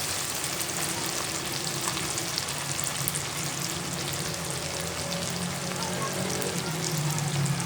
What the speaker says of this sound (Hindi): अब शामिल करते हैं टमाटर, इसको भी थोड़ा सा भून लेते हैं।